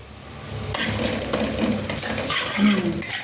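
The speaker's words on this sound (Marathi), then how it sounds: "चांगला मसाला तेलामध्ये चांगला भाजून घ्यायचा" Homemade ghati masala and red chilli powder fry in oil with onion for a Maharashtrian chicken rassa, a steady sizzle broken by scraping stirs and a light clink of the pan, close and fairly loud with no voices.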